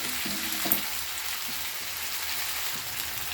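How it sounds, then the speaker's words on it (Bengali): Spice masala sizzles and fries in a pan as it is stirred, a steady close hiss with a few soft scraping knocks near the start, no voices. "খুব ভালো করে নেড়ে নিতে হবে, মশলাটা যাতে সব জায়গায় ছড়িয়েও যায় আর খুব ভালো করে যাতে কষাও যায়"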